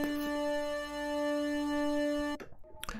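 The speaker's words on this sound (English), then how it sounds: "So the wave synth by itself sounds like this." Dry Wave synth in FL Studio with no reverb: a held, buzzy tone with clear harmonics sustains for about two seconds, then cuts off abruptly and is followed by a couple of short, choppy note stabs.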